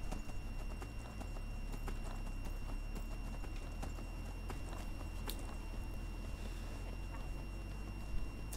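A horse's hooves clip-clop at a steady walking pace in Skyrim, moderately close and even under a low ambient background, with no talking.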